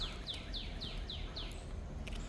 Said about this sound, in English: Y'all hear the birds?